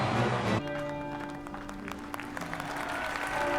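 Applause in a House of the Dragon episode, a brief burst of crowd clapping that stops abruptly within a second, followed by a sustained tonal hum and scattered faint noises.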